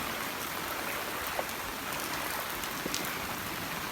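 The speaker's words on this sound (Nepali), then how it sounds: "हिजो बेलुकीदेखि ननस्टप पानी परिरहेछ" Heavy rain falls without pause over a flooded area of Lekhnath, Pokhara. It makes a steady hiss of rain on surfaces, with a few distinct drops and a faint rush of flowing water beneath, and no talk.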